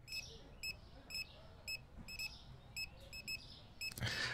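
A supermarket checkout scanner in Supermarket Simulator gives a string of short, sharp beeps, roughly one or two per half second, over faint store ambience, ending with a louder burst of noise.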